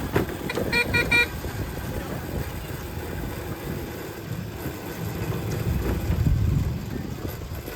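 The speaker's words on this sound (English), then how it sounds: "Oh yeah, use your horn." Horn toots from a 1955 PowerCar Thunderbird Junior kiddie car at a motor muster, a few quick bursts early on over outdoor wind noise and a running engine, with people talking nearby.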